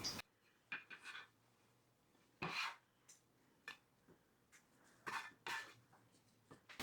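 A bench scraper works sticky bread dough on a floured counter, giving soft, close rasping scrapes in several short, irregular bursts with quiet gaps between. No one talks.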